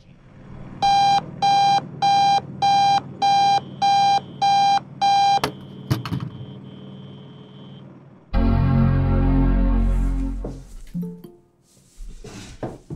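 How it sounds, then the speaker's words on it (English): An alarm clock rings in a rapid series of eight bright, evenly spaced electronic bursts, loud and close, followed by clattering and rustling sounds. "Sorry, I overslept the alarm."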